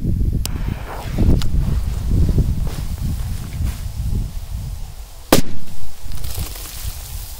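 Homemade triangle firecrackers set off in a row in the ground outdoors, with sharp cracks over rustling and movement noise and one loud, close blast near the end, with no voices.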